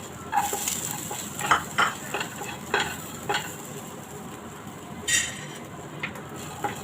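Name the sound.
roasting kurma ingredients in a pan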